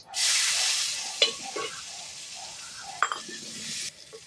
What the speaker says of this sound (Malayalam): ഇതിലേക്ക് സബോള ഇടാൻ പോകും.